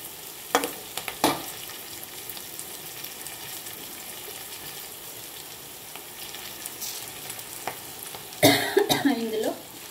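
Green chilli and mango ginger fry in a pan with a faint, steady sizzle, broken by a few sharp stirring clatters near the start and a louder burst of scraping and spattering toward the end.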